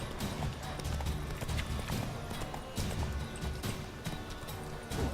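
Hooves of Geralt's horse Roach clop steadily across the ground in The Witcher 3, a continuous rhythmic trot with ambient game noise underneath, fairly close and moderately loud.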